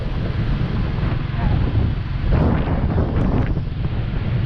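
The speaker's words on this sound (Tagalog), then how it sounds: "mahangin lakas ng hangin dito" Strong, steady wind by the sea in Dapitan City, Philippines buffets the microphone with a continuous low roar, gusting slightly louder midway, with faint open-water wash beneath.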